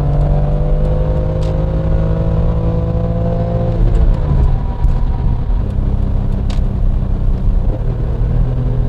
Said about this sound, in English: Oh, that downshift.